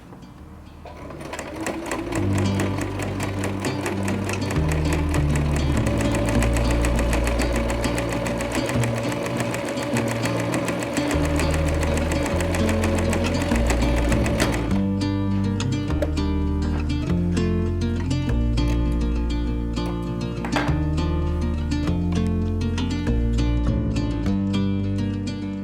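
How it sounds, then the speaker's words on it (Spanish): A sewing machine sews a straight stitch on a makeup-remover pad. The motor whirs close and loud with a rapid, continuous needle rhythm that runs steadily throughout and changes in pitch partway through. "lo vamos a poner en la máquina y vamos a ir haciendo una puntada. Con la puntada recta vamos a coser"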